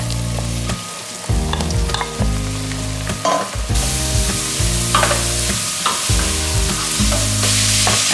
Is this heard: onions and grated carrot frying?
yes